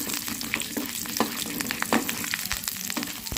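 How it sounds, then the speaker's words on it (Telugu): Poha vada batter fries in a pan of hot oil, a steady crackling sizzle with scattered pops and light stirring noises throughout. "వేసుకొని బాగా ఫ్రై చేసుకుందామండి ముందు వేసుకున్న బాండీలో వేసుకున్నాం"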